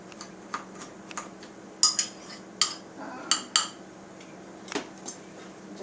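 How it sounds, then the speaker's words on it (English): Peaches caramelizing in a pan for peach cobbler are stirred with a utensil, giving a series of close, sharp scrapes and taps against the pan at irregular intervals over a faint low sizzle, no one talking. "I'm just going to stir that a little bit"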